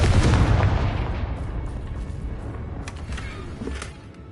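A Confringo fire blast spell explodes in Hogwarts Legacy: a loud, rumbling boom right at the start that rolls on as a long decaying roar with a few crackling bursts, fading toward the end.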